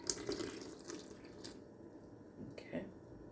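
Half a cup of water poured into a dehydrated sourdough starter, a short, soft splashing trickle heard close but quiet, with no talk over it.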